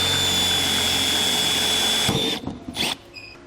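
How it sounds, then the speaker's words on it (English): A power drill with a 1/4-inch bit bores out a rivet on a 2019 Jeep base plate installation. The motor whines steadily for about two seconds, then cuts off, and a couple of short spurts follow. "You're going to need to drill that rivet out."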